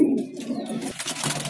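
White gola pigeons handled at a bird sale near Jama Masjid in Delhi give soft, close cooing and throaty calls in a short burst, with faint rustling and background murmur.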